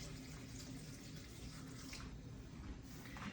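Water runs steadily into a container, a soft continuous trickling and splashing heard faintly and close, with no talking.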